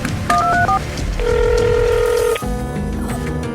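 A phone number is dialed, with a quick series of distinct touch-tone beeps followed by a long steady tone and then a fainter ringing tone, close and clear with no speech over it.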